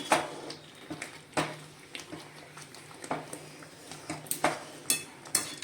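Semolina (rava) roasted in a pan over a low flame for upma is stirred with a spoon. It gives repeated scraping taps and metallic clinks in an irregular rhythm over a soft background hum.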